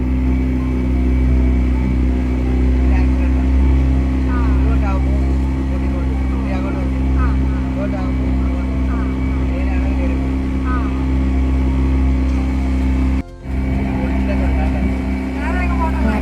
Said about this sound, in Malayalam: നമ്മുടെ ഗ്ലാസ് ബോട്ട് ഓടിക്കുകയാണ്